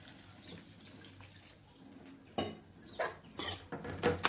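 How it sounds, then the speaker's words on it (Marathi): Water poured into a pan of potato and cauliflower curry, a few soft splashing and trickling bursts close by after a quiet start. "आणि थोडंसं पाणी टाकून घेणार आहे।"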